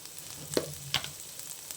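Potatoes with red chili powder fry softly in a pan, a low sizzle broken by a couple of brief crackling pops and stirring clinks, quiet and close.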